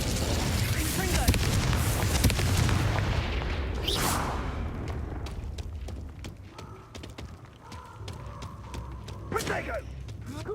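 Confringo fire spell blasts in the Hogwarts Legacy video game, a dense rumble of booming impacts and crackling bursts that ease off midway, with sharper hits returning near the end and speech mixed in.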